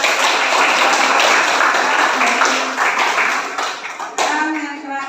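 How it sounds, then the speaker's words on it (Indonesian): A classroom of students claps hands together in a loud, dense round of applause that tapers slightly near the end, with a few voices mixed in. "Kita beri tepuk tangan dulu"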